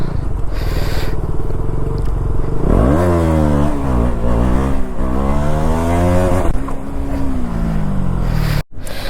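A KTM Duke 200 motorcycle revs hard during a wheelie, its engine note sweeping up and down in loud, rising and falling pulls for several seconds over steady background noise, then settling before a brief dropout near the end.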